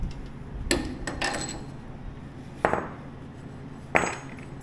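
A sledgehammer head strikes a threaded rod in a shop while backhoe axle bushings are being replaced: a quick pair of sharp metallic clinks, then two single ringing hits spaced about a second apart over low background noise.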